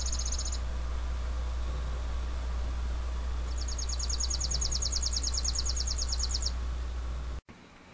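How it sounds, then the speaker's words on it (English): Chipping sparrow singing outdoors, a faint, rapid dry trill of uniform chips heard as a short burst, then a longer sustained trill, over quiet background hum. "As you can hear, the chipping sparrow's song sounds very similar to a 1950s mind control device."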